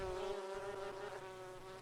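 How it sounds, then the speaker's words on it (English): A bucket full of bees buzzes with a steady, dense drone that runs close and loud for the whole moment, with no talking over it. "It's a bucket of bees!"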